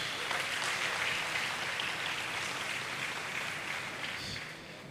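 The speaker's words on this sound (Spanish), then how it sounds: "Den un buen aplauso al Señor Jesús" Applause fills a church congress hall as the audience claps for Jesus, a steady, fairly soft wash of many hands heard from a distance, easing slightly near the end.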